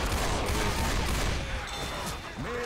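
Dense, continuous gunfire from a Left 4 Dead 2 game session, a loud sustained fusillade of overlapping shots filling the whole moment with no speech on top.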